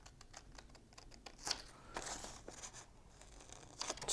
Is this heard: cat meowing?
no